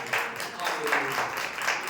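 A church congregation claps hands together during a Hindi-language worship service, a steady wash of many palms with faint voices mixed in underneath.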